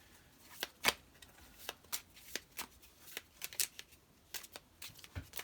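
Playing cards riffled and shuffled back into a deck during a solo tabletop card game, heard as a quick run of crisp, close flicks and snaps with short pauses between bursts.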